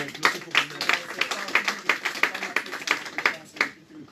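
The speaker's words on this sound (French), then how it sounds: "est-ce qu'on peut applaudir, bien sûr," Scattered audience applause at a choir performance, a small crowd clapping in uneven sharp bursts for about four seconds, with a voice briefly audible underneath before it fades out.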